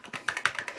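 Keys clack on the keyboard of a Texas Instruments TI-99/4A home computer, about seven close, crisp plastic taps in a quick, slightly uneven run.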